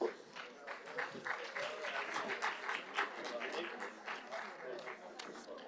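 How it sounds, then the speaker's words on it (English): Audience applause at a European sustainable tourism conference, a steady patter of many hands clapping for several seconds with voices talking through it. "A round of applause for everyone."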